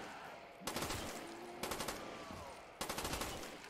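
Three bursts of automatic AK rifle fire in Black Ops 3 Zombies, each a rapid rattling string of shots, the first and last longer and the middle one shorter, separated by quieter game ambience.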